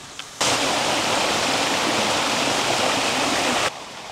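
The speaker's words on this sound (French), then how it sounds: "Ce bruit délicat et délicieux de l'eau." A stream with small falls runs through garrigue country, a loud, steady rush of flowing water that starts abruptly, holds evenly for about three seconds and then cuts back to quieter background.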